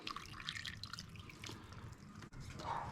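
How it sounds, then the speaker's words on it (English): A cup of water poured into a saucepan of soy sauce and spice while making plum sauce, a steady trickling splash with drips, close and fairly quiet, with no talk over it. "I'm going to add a cup of water."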